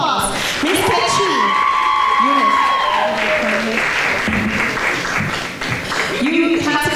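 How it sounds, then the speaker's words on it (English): An audience at a Miss Africa pageant crowning bursts into loud, sustained applause with cheers and whoops, and a voice rises briefly over the crowd near the end. "let's give her a round of applause"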